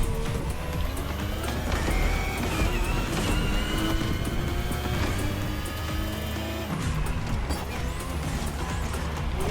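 Continuous engine drone and road noise from a car racing on a technical track in The Crew Motorfest, steady and loud for the whole stretch with layered mechanical whine and no talk.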